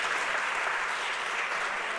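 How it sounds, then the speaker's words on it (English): Audience applause at a city council meeting in Edinburg, steady dense clapping from a crowd held at moderate level for the whole stretch with no voices over it. "One more big round of applause."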